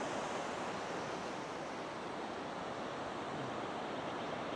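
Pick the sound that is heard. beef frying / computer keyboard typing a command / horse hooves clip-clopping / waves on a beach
waves on a beach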